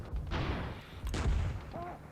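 Two heavy booming tank cannon shots firing HEAT rounds in a PC video game, about a second apart, each followed by a rumbling decay, with a brief whine near the end.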